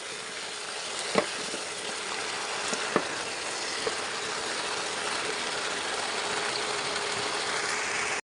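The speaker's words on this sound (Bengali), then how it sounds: "তো আমি লাউগুলো সব দিয়েছি। এখন ভালো করে নেড়ে চেড়ে সামান্য একটু পানি দিয়ে ঢেকে দিব।" Chopped bottle gourd cooks in a pan with a constant close hiss and sizzle, broken by a few sharp clicks of stirring.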